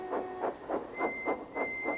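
Percy, the small cartoon steam engine from Thomas, toots his steam whistle in a quick rhythmic string of about seven short, even blasts, fairly faint over a soft background hiss.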